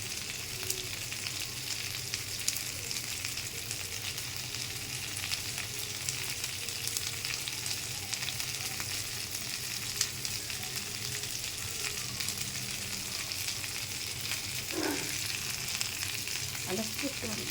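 Onion, garlic, ginger and broken green chilies sizzle steadily in hot oil in a pan, a continuous soft frying hiss with occasional stirring scrapes, no talk.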